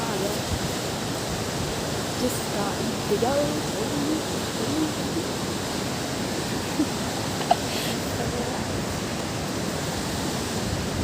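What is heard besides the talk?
mountain waterfall in Darma Valley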